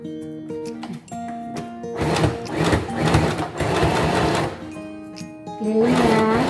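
A sewing machine stitches an elastic waistband on trousers, starting with short bursts and clicks, then running in a loud continuous whir before pausing and starting again nearby.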